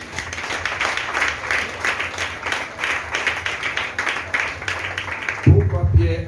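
A church congregation claps steadily in rhythmic applause that fills the room, ending as a voice begins speaking.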